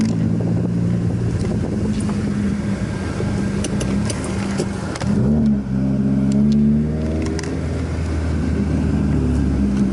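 Steady engine drone from inside a moving Subaru WRX, with a low hum and a brief shift in engine tone midway, no talking.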